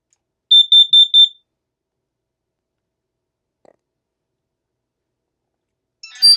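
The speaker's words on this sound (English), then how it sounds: "Carbon monoxide detector alarm." Four quick, shrill electronic beeps from a carbon monoxide detector alarm in an even rhythm, then near-silence with a faint bump and a short burst of noise at the end.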